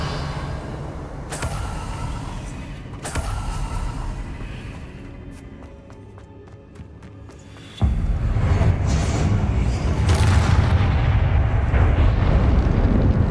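The Confringo explosive spell fires in the video game Hogwarts Legacy, with a rumbling game soundscape that breaks into a sudden loud blast followed by a sustained roaring, fiery rumble.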